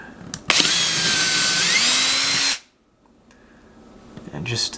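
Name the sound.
power drill drilling holes in drywall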